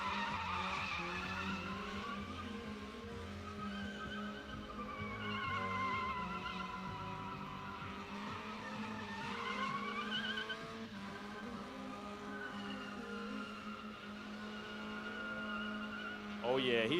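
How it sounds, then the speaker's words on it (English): Mazda Miata drifting at a drift pit event, tires squealing in long wavering howls over a steady engine drone, moderately distant, with a commentator talking throughout. "The little Miata's burning it down out here."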